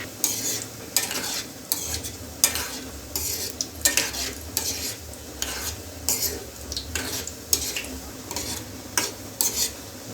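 Gulab jamun frying in oil, a continuous sizzle broken by repeated sharp scraping strokes of a spoon against the pan roughly every second, close and fairly loud, no speech.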